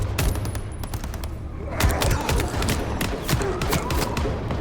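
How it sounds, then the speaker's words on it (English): Rapid bursts of video game gunfire crackle nonstop with dense overlapping shots and thuds, loud and close, like a heavy firefight. "Gunfire."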